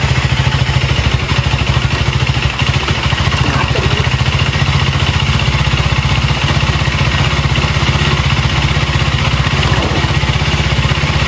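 A motorcycle engine that keeps running in neutral and does not slow when the clutch is pulled gives a loud, close, steady idling chug with rapid even firing pulses and mechanical clatter.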